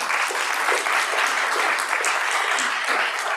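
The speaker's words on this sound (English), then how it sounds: "Can we give them a round of applause?" Audience applause at a Milpitas city council meeting, a dense, even burst of many hands clapping that holds steady and loud for the whole stretch with no talk over it.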